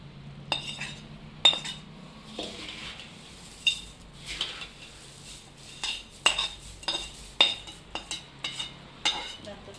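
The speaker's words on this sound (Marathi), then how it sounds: "आता हे सगळं मिक्स करून घ्यायचं आहे आपल्याला" Puffed rice chivda being tossed and stirred in a metal kadhai, with repeated scraping clinks of a spoon against the pan in irregular bursts, close and fairly loud, with quieter pauses between strokes.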